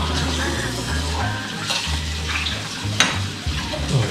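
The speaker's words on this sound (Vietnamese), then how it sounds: "mình sẽ ướp một tí muối tiêu rồi chiên áp chảo cùng với lại cái cây hương thảo, cây rosemary ấy" Fish fillet seasoned with salt and pepper pan-frying alongside rosemary, a steady close sizzle running throughout with a few soft clinks and stirring sounds and no talking.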